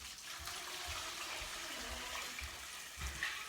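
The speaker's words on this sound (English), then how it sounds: "we're going to pour a couple more gallons of chilled apple juice" Chilled apple juice poured from a jug into a bucket holding a brining Thanksgiving turkey, a steady close splashing gurgle that runs unbroken from start to end.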